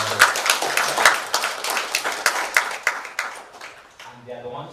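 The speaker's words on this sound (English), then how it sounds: "let's give them a huge round of applause" A round of applause for AWS trainers at an artificial intelligence community meetup, with scattered, fairly close claps rising and fading in uneven bursts that thin out toward the end as a voice begins.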